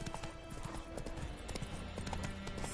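Roach, the player's horse in The Witcher 3, clops along with a steady, even rhythm of hoofbeats, close and clear over a continuous musical backdrop.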